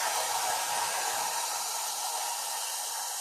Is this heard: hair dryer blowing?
yes